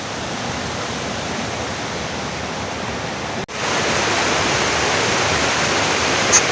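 Heavy water roars steadily from a full dam, like a torrent pouring over a spillway, loud and continuous with a brief dropout midway.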